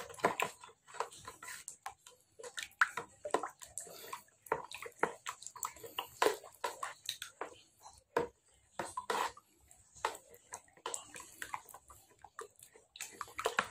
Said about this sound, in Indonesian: ini segera kita aduk-aduk